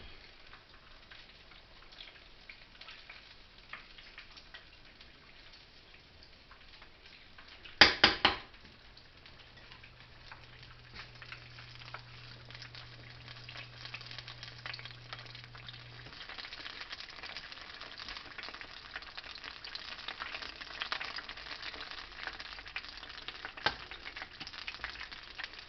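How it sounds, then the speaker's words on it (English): Shrimp and crab rangoon egg rolls deep-fry in reused grease with a steady, soft crackling sizzle, a short clatter of a utensil early on, and bubbling that grows busier toward the end. "these do not take long to cook at all. So you want to stay over your grease."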